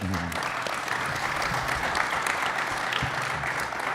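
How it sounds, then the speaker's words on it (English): Conference audience at an automotive dealers' gathering claps in a sustained, even roar of many hands, dense and continuous from start to finish, with faint voices beneath it at the very beginning. "you need to give a round of applause to these guys"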